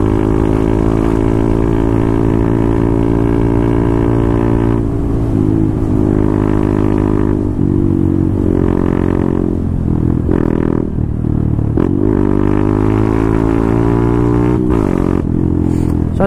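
Honda Grom motorcycle engine running loud and close, a steady buzzing drone with shifting pitch as it revs and moves past.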